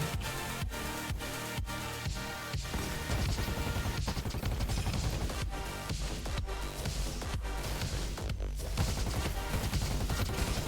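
Rapid, loud gunfire from a heavy-recoil weapon in the shooter game Roboquest, a dense, continuous barrage of shots mixed with explosive crashes and game music throughout.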